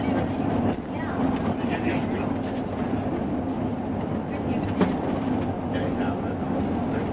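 A tour train rolls along the rails on the line out of Skagway toward Fraser, a continuous close rumble with rhythmic clickety-clack of the wheels, and voices faintly audible beneath it.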